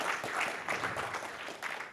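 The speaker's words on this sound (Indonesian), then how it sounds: "Saya mengajak tepuk tangan dan kita sambut kebenaran firman Tuhan." A church congregation applauds during a service, a moderately quiet, dense patter of many hands clapping continuously with slight swells.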